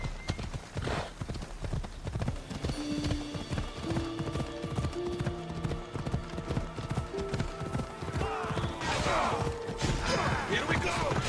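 A horse gallops in Assassin's Creed Odyssey, with rapid rhythmic hoofbeats close and prominent throughout while game music plays underneath and a voice speaks briefly over it.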